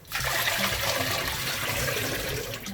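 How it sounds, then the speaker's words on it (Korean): A pot of water boils vigorously on the stove while duck and garlic simmer for a Korean baeksuk soup, giving a steady, loud bubbling and rushing wash that holds for the whole stretch. "팔팔팔 끓고 있군"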